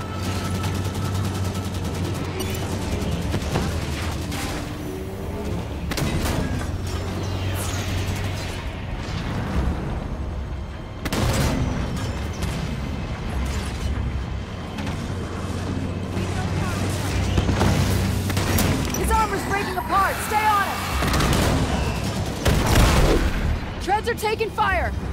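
A Halo 5 campaign battle rages with sustained gunfire, bursts of shots and blasts rolling over a low droning backdrop, while voices call out between the explosions.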